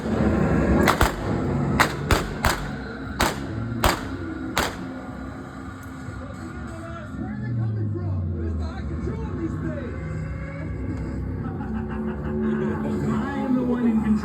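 Gunfire effects in a ghost train ride show at Tweetsy Railroad: several sharp shots crack in quick succession near the start, then give way to rumbling ride noise with a voice talking over it.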